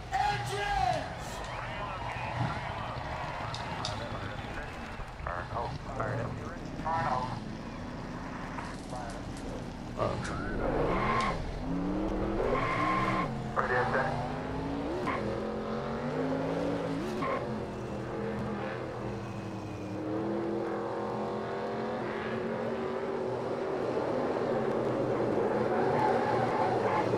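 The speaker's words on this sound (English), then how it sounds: "Drivers, start your engines!" Race car engines start and rev up in the NASCAR Racing 2003 video game, with rising, overlapping engine tones building over a steady background hum while voices talk throughout.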